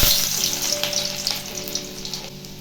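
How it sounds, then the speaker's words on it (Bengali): Chopped garlic crackles in hot mustard oil, a bright dense sizzle that starts strong and eases slightly over a couple of seconds, close up and alone. "সবার আগে দিয়ে দেবো রসুন কুচি।"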